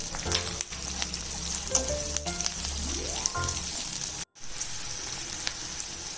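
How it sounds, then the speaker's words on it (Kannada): Garlic and ginger frying in a pan, a continuous close sizzle with crackles and pops, briefly interrupted by a short gap before the frying noise resumes. "ಒಂದು 2 ನಿಮಿಷ ಫ್ರೈ ಮಾಡ್ಕೋಬೇಕು"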